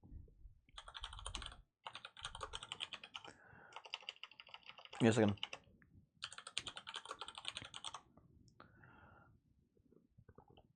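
Bursts of computer keyboard typing clatter close by in uneven runs of rapid clicks, with short pauses between them and a brief spoken phrase partway through.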